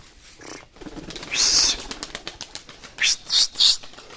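Two tumbler pigeons take off, their wings beating in a loud flurry of flaps, then a pause and another series of sharp, close wingbeat bursts.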